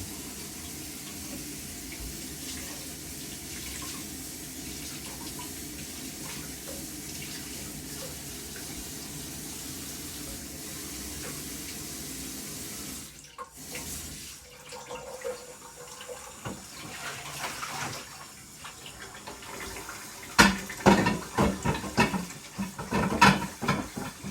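Water running from a kitchen tap while a burned skillet is washed, a steady hiss that turns into irregular splashing, scrubbing and clattering in the second half.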